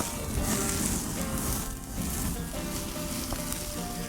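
A ribeye steak sizzles steadily on a charcoal grill, a loud continuous crackling hiss heard close up with no talking.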